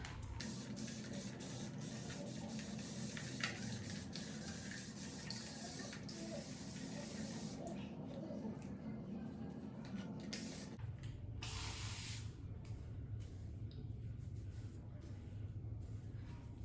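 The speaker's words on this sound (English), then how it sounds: "Get my spray bottle." A spray bottle mists water onto curly hair in repeated hissing bursts, close up and fairly steady, with a brief pause before spraying resumes; a faint hum of running water lingers in the background.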